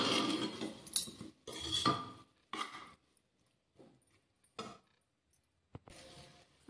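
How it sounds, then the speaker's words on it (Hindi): Chopped tomato and salt being stirred in a pan with a utensil, heard as close, irregular bursts of scraping and clinking separated by short silences. "अब सभी को अच्छे से मिक्स कर लेंगे"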